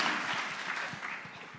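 A church audience applauding, a brief burst of many hands clapping that fades a little toward the end, with a voice faintly underneath.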